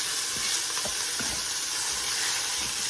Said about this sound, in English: Okay, we're frying up some sausage.